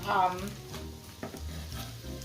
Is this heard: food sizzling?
yes